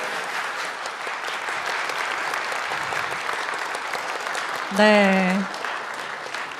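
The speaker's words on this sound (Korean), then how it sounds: "뜨거운 박수 부탁드립니다." Workers at a labor ceremony applaud warmly in a steady, sustained roll of clapping; a short spoken word cuts through briefly near the end.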